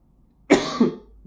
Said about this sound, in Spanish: me está dando ahora la crisis de tos y no paro